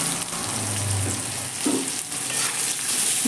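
Sliced onion, garlic and potato fry in a pan as they are stirred, giving a steady, close, dense sizzle with soft scraping and shuffling from the stirring.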